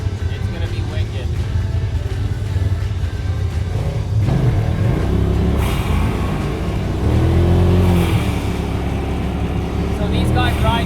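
A Honda 1000 two-seat UTV engine runs loudly on a Tennessee trail, holding a steady drone before its revs rise and fall noticeably in the second half.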